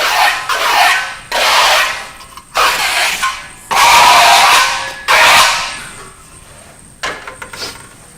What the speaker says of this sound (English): I'm just taking off some of these bumps that are there, just so that when we trowel the second coat, it just goes on a little bit smoother for us